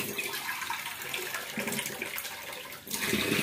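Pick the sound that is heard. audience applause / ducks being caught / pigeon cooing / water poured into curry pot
water poured into curry pot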